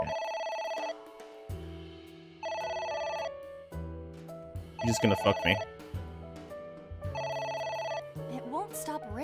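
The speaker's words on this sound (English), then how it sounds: "It won't stop ringing." A telephone rings repeatedly in Final Fantasy XIV, periodic bursts of bright electronic ringing tones alternating with game music and effects, while a person talks over it.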